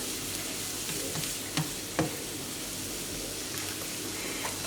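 Onions frying in a pan for a chanterelle mushroom sauce, an even moderate sizzle with a couple of sharp utensil knocks early on.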